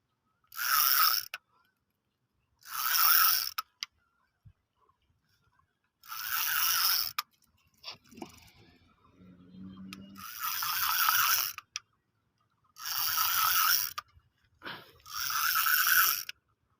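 Fishing reel drag ratcheting in loud, close bursts as a large fish pulls line, about six rapid clicking runs separated by short pauses, with faint rustling in between and no talk.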